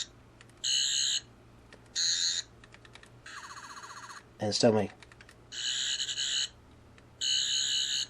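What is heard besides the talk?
Sonic Screwdriver toy making its sounds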